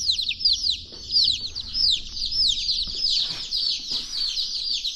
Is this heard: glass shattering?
no